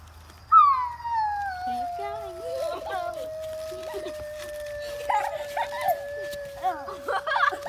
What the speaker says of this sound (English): that howling noise is from Sadie, my cousin